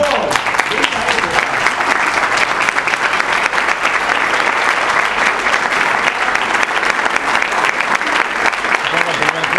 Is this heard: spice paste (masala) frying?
no